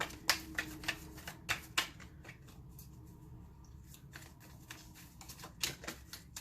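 Tarot cards are shuffled nearby in quick papery riffles and flicks, busier at the start and end with a quieter stretch in the middle, and no talk.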